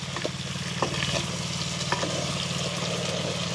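Drumstick pieces sauté in a pan with fenugreek, producing a continuous close sizzle with a low bubbling undertone and a few light utensil taps scattered through.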